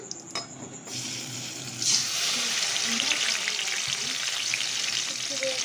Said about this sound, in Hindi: एबे आमे मसला पकेइबा।